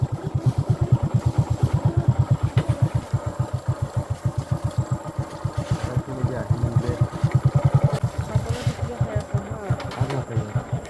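A motorcycle engine chugs steadily in a fast, rhythmic putter while the bike struggles for grip on a slippery, muddy jungle track. It sounds close and fairly loud throughout, with a few brief voices mixed in.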